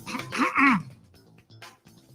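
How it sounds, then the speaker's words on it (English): A single throat clearing, a short raspy rumble, followed by quiet murmured sounds. "I'm actually clearing my throat."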